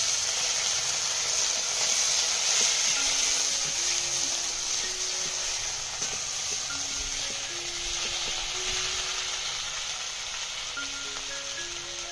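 Chopped tomato added to a pan of fried ginger and green chili paste for a banana-flower curry, giving a continuous moderate sizzle and hiss with faint stirring clicks, no voices.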